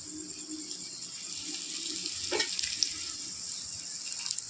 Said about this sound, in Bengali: এবারে এখান থেকে একটা পরোটা হাতে নিয়ে এভাবে তেলের উপরে দিয়ে দেবো।